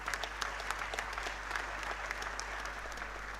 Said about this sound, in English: Ladies and gentlemen, kindly join me in applauding these heroes.